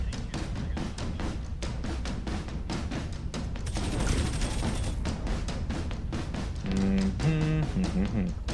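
Ship turrets firing in Pirate Patrol, a rapid rhythmic series of sharp shots over battle noise, with a brief burst of higher noise midway and tonal game alert sounds near the end.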